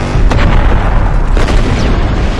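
An explosion blast in the film The Amateur lands as a loud, sustained deep boom with rumbling low-end roar and a couple of sharper bursts layered in, filling the whole span at close, overwhelming volume.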